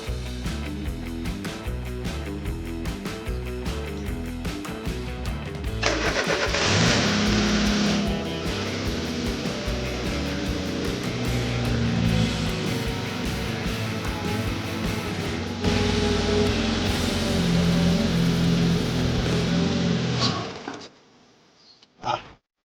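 A Peugeot 106 XSi with an engine fault starts and runs, rising to a louder, harsher roar for about fifteen seconds before dropping sharply and cutting out, leaving a few faint clicks.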